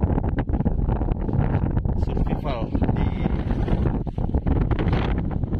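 Strong wind buffets the microphone on a small island where people are stranded by big waves, roaring steadily throughout with someone talking over it.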